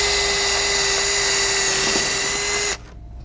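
A power drill bores a rivet hole through metal chimney cap flashing, a steady high whine running close and loud for under three seconds before cutting off abruptly.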